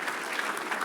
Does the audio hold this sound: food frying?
no